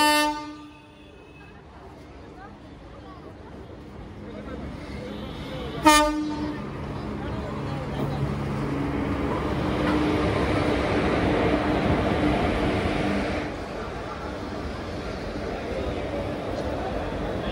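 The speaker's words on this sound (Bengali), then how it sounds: "তিস্তা তোরসা এক্সপ্রেস 2 নম্বর প্ল্যাটফর্মে আসছে।" The Teesta Torsha Express pulls into platform 2 at Naihati station. A loud horn blast opens, then a sharp clank is followed by a long, building rumble of wheels and coaches rolling past. Station chatter sits underneath.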